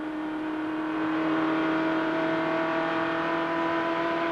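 Auscar touring race cars racing on a circuit during a 1994/95 Round 1 race, with a loud, steady engine roar that holds at a constant pitch throughout and no voices.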